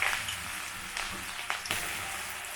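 Turmeric and ginger frying in hot ghee give a steady close sizzle with a few soft stirring knocks and crackles, and no voices.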